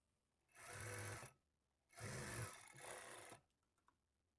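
A sewing machine stitches a blouse lining in two steady whirring runs, the second longer with a slight change in pitch, close and clear with short quiet pauses between.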